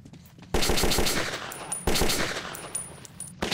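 Rapid automatic gunfire in the video game Metro 2033, two loud sustained bursts of shots close and dominant, with no talk.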